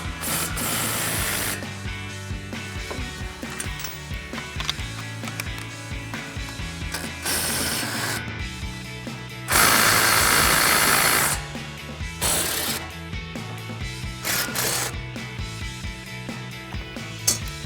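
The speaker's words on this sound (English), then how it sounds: "We grab our impact and 15 millimeter socket, take those two out." An impact wrench spins 15 mm brake caliper bolts off the knuckle of a 2015-2025 Mustang, a loud sustained mechanical rattle in a short burst, with ratcheting clicks over a dense, steady background.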